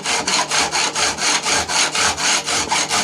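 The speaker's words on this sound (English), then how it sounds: "by looking at the metallic heads that I'm filing away, I can actually see the angle I'm putting on it" A file rasps back and forth across the metal fret ends on a scratch-built Les Paul Junior–style guitar, producing about twelve steady, evenly spaced strokes. The strokes are close and loud, with no talking.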